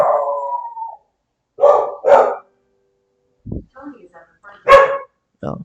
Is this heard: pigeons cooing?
no